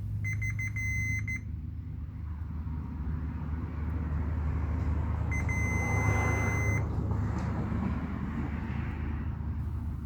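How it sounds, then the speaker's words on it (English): Two separate steady electronic beeps from a continuity tester checking the wires of a replacement electrical plug, each lasting over a second, over a low constant hum of background noise. "It should beep when touching the green wire."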